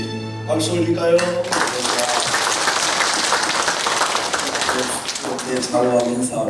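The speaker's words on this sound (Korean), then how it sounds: "박수 올릴까요?" A church congregation bursts into sustained clapping during a worship service, loud and dense for several seconds, set between passages of sung or played music that open and close the moment.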